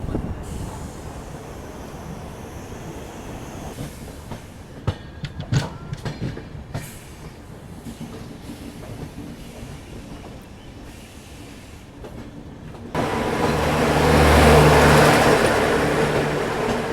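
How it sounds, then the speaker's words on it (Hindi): The Amritsar–New Delhi Shatabdi Express crosses on Indian Railways, heard as a steady rumble with rhythmic wheel clatter and clanks, building to a louder, closer roar near the end. "और ये फ़िलहाल क्रॉस हो रही है अमृतसर नई दिल्ली शताब्दी एक्सप्रेस।"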